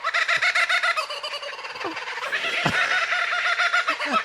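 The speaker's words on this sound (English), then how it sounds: "Oh, I love this bird. The laughing kookaburra." A recording of a laughing kookaburra plays a loud, rapid, cackling chorus of rising and falling hoots that keeps going, with a few brief knocks underneath.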